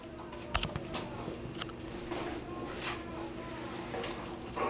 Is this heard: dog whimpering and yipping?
yes